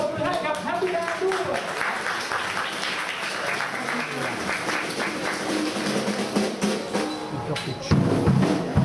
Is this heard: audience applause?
yes